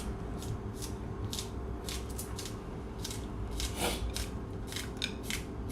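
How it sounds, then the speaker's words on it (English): Kitchen scissors snip a green onion in a home kitchen, a quick series of crisp, close cuts repeating irregularly over a steady background hum. "I got 1 green onion here that I'm gonna cut on top. Kitchen scissors, essential."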